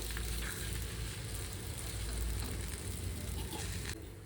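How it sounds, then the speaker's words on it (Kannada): Methi chapati sizzling on a hot griddle stone, a steady, close, loud crackling fry that runs evenly throughout and eases off slightly near the end, with no talk. "ಇವಾಗ ನೋಡಿ ಕಲ್ಲು ಕಾದಿದೆ, ನಾನು ಹಾಕ್ತಾ ಇದ್ದೀನಿ ಚಪಾತಿ."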